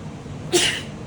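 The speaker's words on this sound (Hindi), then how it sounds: "उसके बाद अच्छी अच्छी अच्छी छींक आ गई" One sudden sneeze bursts out indoors in a home, a short sharp breathy blast rising over a steady background hiss, then trailing off quickly.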